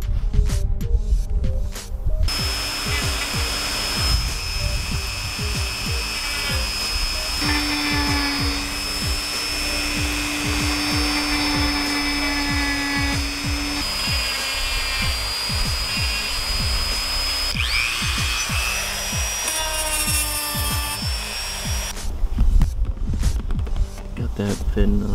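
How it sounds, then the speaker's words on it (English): A Dremel rotary tool grinds down a small gap with a continuous buzzing whine and throbbing hum, close and fairly loud, its pitch shifting slightly as the load changes. "I'm gonna have to use a Dremel to fix that little gap right there."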